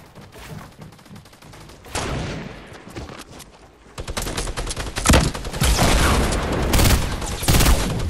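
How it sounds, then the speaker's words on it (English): Gunfire in the video game Fortnite during a sniping exchange: loud rapid bursts and crackling volleys that come in waves and build in intensity, with no voices. "we're getting sniped at."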